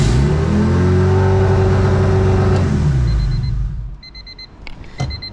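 A Honda D16Y8 engine in an EK coupe holds high, steady revs with strong harmonic tones, then drops toward a rough idle. Close and loud at first, it quiets partway through, and a few faint beeps and clicks follow.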